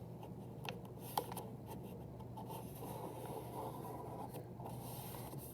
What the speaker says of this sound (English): And then fold it in half a third time.